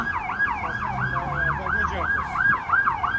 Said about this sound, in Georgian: ეს რა არის სასწრაფოა